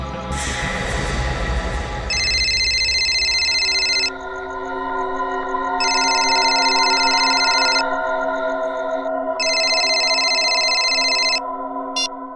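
A telephone rings with repeated electronic bursts of tone at a steady cadence, loud and close, after a brief noisy start, with no talking.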